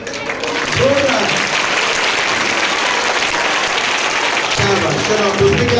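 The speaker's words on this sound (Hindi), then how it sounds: "बस अब एक बार जोरदार तालियां किसके लिए बजाने का?" Steady, loud audience clapping at a school Republic Day program carries throughout, with a voice calling out briefly over it near the start and again near the end.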